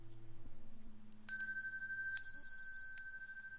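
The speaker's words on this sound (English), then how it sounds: "I'll ring the bell 3 times." A monastery bell is struck three times for bowing, each a bright clear ding with a long ringing tail, spaced about a second apart, after a low murmur at the start.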